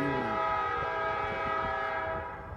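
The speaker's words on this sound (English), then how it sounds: "as you can tell by the train horn, this is next to one of the train rail lines" A train horn blows steadily from a rail line running past a street corner in Louisville, a loud sustained chord with faint rumble and clatter beneath, easing off at the end.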